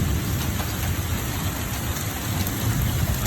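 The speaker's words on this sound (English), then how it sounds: "You can hear the hail hitting the house and the gutter and the floor" Heavy rain and hail pound a house in an Oklahoma thunderstorm, rattling against the walls, gutter and ground in a dense, steady, loud roar that never lets up.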